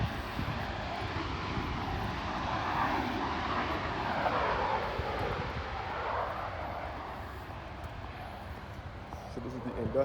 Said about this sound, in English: You can see the plane now landing.